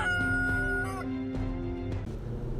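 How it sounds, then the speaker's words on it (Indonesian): Roosters crow in long, drawn-out calls, one after another and overlapping, loud and near with a ringing, harmonic tone. "Mendengar kokok ayam jantan,"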